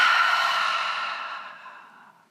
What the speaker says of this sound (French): Expiration bouche ouverte.